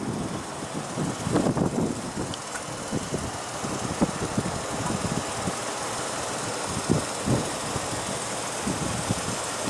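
A 2015 Chrysler 300 with a 3.6 L V6 idles after start-up, a low, steady, fairly quiet engine hum with soft mechanical ticking and a few faint knocks, no talk.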